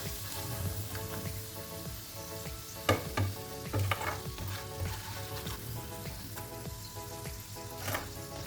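Pieces of yam and egg snack fry in hot oil with a steady, close sizzle and crackle, with occasional louder pops and stirring clinks; no one speaks.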